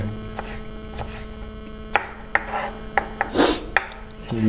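A knife chops ingredients for chicken macaroni in a kitchen, giving sharp, irregular knocks on a board over a constant electrical hum.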